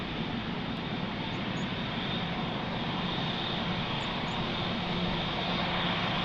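Airbus Neo airliner lining up for departure at Lisbon Airport, its engines giving a steady, continuous roar, broadband and moderately loud, with no talk.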